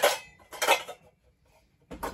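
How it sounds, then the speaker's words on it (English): A stainless steel bowl clanks and scrapes against a hard surface in three bursts, bright ringing clatter with short quiet gaps between. "I'm going to grab a bowl,"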